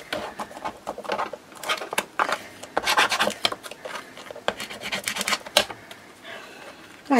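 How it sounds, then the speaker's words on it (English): Bone folder burnishing acetate on a desk, a series of quick scraping and rubbing strokes in uneven bursts, close and fairly crisp, with brief pauses between passes. "let's just burnish that down with my bone folder"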